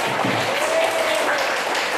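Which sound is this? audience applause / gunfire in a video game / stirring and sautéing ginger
audience applause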